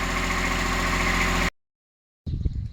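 A Kubota Aste A-155 tractor with a newly installed engine runs loud and steady up close for about a second and a half, then cuts to silence before a rougher, choppier engine sound returns.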